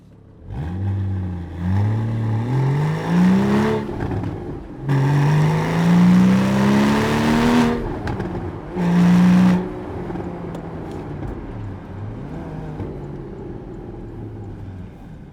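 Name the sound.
sports car exhaust revving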